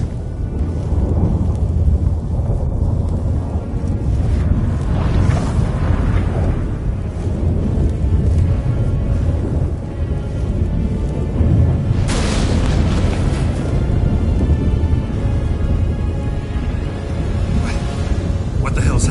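A sudden thunderstorm in The Witcher 3: a continuous, loud low rumble with rolling thunder and one strong crashing burst midway, while characters speak over it.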